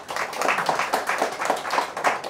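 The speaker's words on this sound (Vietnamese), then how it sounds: "một tràng pháo tay" A round of applause at a Buddhist New Year gathering for the Year of the Cat: steady, rhythmic clapping from an audience, moderately distant, with little talk.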